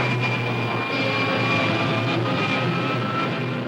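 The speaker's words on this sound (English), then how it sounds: "Fire pilot jets." Rocket ship pilot jets fire in an old science-fiction serial sound effect, a steady, dense roar with faint whistling tones that holds constant throughout.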